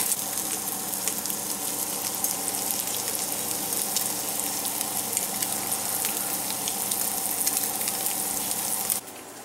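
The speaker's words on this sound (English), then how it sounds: "he's lightly sauteing them in oil" Boiled egg halves sauté in hot oil with a steady, close, even sizzle throughout, cutting to quiet near the very end.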